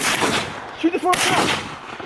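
Gunshot during a youth duck hunt in Michigan, a single sharp blast near the middle, with a brief broadband burst against an outdoor background and a faint bird call nearby.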